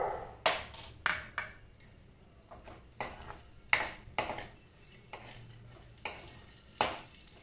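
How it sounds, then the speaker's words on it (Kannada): Green chillies dropped into hot cumin in a pan for a brinjal chutney give a faint sizzle under a string of sharp, uneven clinks and scrapes of a spoon against the pan. The sounds are quiet and close, with no talking. "ಬಿಸಿ ಆಗ್ತಿರೋವಾಗಲೇ ನಾನು ಇದಕ್ಕೆ ಹಸಿಮೆಣಸಿನಕಾಯಿ ಹಾಕ್ಕೊಂಡು ಬಿಡ್ತೀನಿ"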